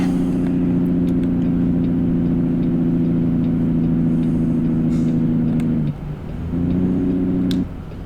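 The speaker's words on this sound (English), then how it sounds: "here's my exit, so we'll come off the power. Bit of engine brake." A Cummins NTC Big Cam 350 diesel truck engine in American Truck Simulator drones loudly and steadily with a deep harmonic rumble, dips briefly near the end as the power comes off, then resumes under engine braking.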